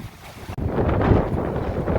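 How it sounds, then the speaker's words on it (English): Rough, gusty wind buffeting a phone microphone during a tropical storm, a low rumbling roar that drops out briefly then returns steady and loud. "it's a little bit windy with the phone held this way"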